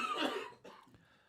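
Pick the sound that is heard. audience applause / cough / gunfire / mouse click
cough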